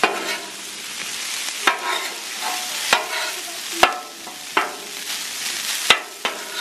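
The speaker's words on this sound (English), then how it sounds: "spread out my shrimp. make sure we get those spread out so they cook evenly" Shrimp fry on a Blackstone griddle, a close, steady sizzle punctuated every second or so by hard clacks and scrapes of a spatula spreading them across the flat top.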